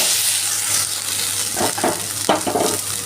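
Grated carrot for carrot halwa fries in ghee, a loud continuous sizzle with several short scraping stirs of the spoon against the pan in the second half.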